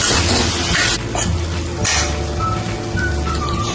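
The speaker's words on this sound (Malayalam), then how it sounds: "ഇനി 1/2 ടീസ്പൂൺ മുളക് പൊടിയും 1/4 ടീസ്പൂൺ മഞ്ഞൾപ്പൊടിയും 1/2 ടീസ്പൂൺ ഉപ്പും ചേർത്ത് നന്നായി മിക്സ് ചെയ്യാം" Beetroot is stirred in a hot pan with chili powder, turmeric and salt, giving a steady loud sizzle with scraping spoon strokes that pause briefly.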